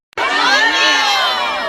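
A large crowd cheers and shouts all at once, a loud sustained roar of many high voices starting abruptly and holding steady.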